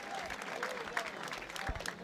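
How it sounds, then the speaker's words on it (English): Crowd applause at a boxing event in Yas Links, a brief burst of clapping and cheering from a large audience, moderately loud and steady over about two seconds with some voices mixed in. "another big round of applause for this war here in Yas Links"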